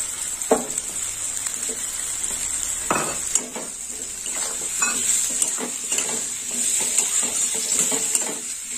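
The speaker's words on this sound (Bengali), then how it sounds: "এই ক্যাপসিকামটা পেঁয়াজের সঙ্গে ভাজা হবে।" Chopped capsicum frying with onions in a pan gives a continuous bright sizzle, broken by frequent spatula scrapes and clinks against the metal, close and moderately loud, with no voices.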